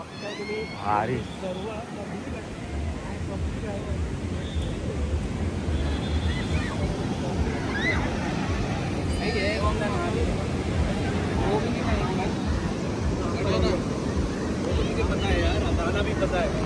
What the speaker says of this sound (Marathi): समुद्र बघा असा खवलला एकदम